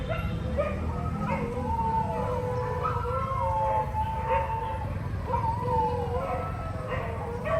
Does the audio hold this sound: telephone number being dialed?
no